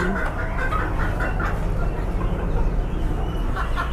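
A male Lady Amherst's pheasant, over two years old, at a Bangkok animal market gives fowl-like calls that are hard to pick out from the steady din of the crowded market.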